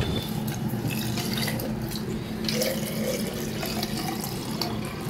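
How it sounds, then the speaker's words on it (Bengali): Rice-soaked water poured into a homemade detox drink, a steady running, splashing liquid sound with faint drips, close and continuous throughout with no talking. "চালের জলটা মিশিয়ে দিলাম"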